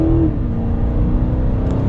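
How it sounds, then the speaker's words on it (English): A 2023 BMW X5 M50i pulls away on the road in second gear under mild acceleration, a loud, steady engine drone heard from inside the cabin, its pitch rising slightly at the start. "Mild acceleration"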